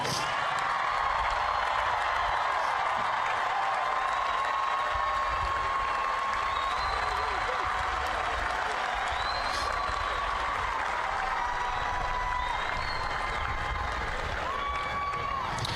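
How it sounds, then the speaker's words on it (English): A large commencement crowd gives a sustained round of applause for graduates at a university spring ceremony, a steady wash of clapping with some cheering and faint tonal whistles and calls over it throughout. "If you would join me in one last round of applause for all of our graduates today."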